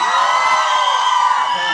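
A crowd at a Bollywood song launch event whoops and cheers loudly and steadily, a dense wash of voices and shouts filling the whole stretch.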